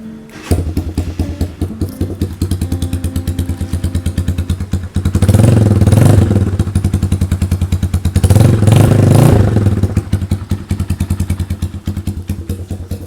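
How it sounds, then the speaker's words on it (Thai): A 2017 GPX Legend 200 tracker-style motorcycle with a loud aftermarket exhaust fires up by key start, then idles with a close, lumpy thumping beat, swelling twice into short revs before settling back. "เวลาสตาร์ทคันนี้นะครับ ต้องสตาร์ทตรงกุญแจนะครับ"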